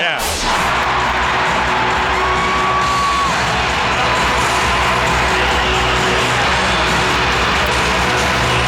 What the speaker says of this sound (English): That's some real crowd noise right there.